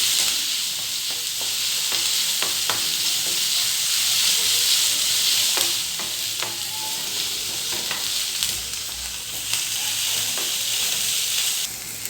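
Sliced onions sauté in hot oil in a pan for potato bonda filling, giving a continuous, loud, close sizzle and hiss broken by occasional scraping taps of a spoon as they are stirred.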